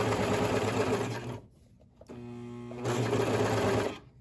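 A Brother 1034D serger sews cotton flannel, its fast steady motor hum running in two long bursts with a short pause between them. Close, loud and mechanical, with no talk.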